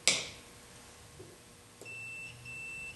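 A multimeter testing continuity across the contacts of an automotive switch: a sharp click or tap, then a steady electronic beep that holds on for the last second or so, quiet and close.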